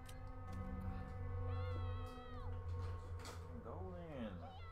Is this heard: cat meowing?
yes